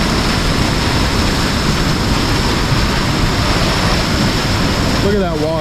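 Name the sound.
water rushing through a clogged culvert pipe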